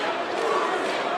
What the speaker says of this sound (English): Usik, Usik, the crowd are chanting.